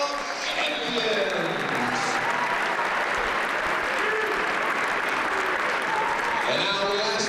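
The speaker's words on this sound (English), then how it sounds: "let's give a round of applause for 2025 Northeastern Parade of" A large crowd at a wrestling regional finals applauds steadily, a dense wash of clapping that holds at full strength for several seconds.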